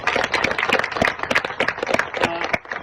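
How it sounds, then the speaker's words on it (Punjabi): A crowd claps for two wrestlers at a village gathering for Maha Shivratri in Khizrabad, a dense, fairly loud burst of applause with irregular sharp claps throughout. "ਇਹਨਾਂ ਦੋਨੇ ਪਹਿਲਵਾਨਾਂ ਦੇ ਨਾਂ ਤੇ ਇੱਕ ਵਾਰ ਜ਼ੋਰਦਾਰ ਤਾੜੀ ਮਾਰ ਦਿਓ"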